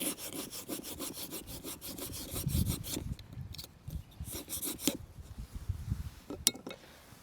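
A knife blade saws back and forth through material during a knife durability test, giving a steady rhythmic rasping scrape with repeated strokes, close and fairly loud, with no talking.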